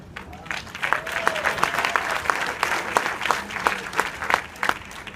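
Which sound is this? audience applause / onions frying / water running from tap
audience applause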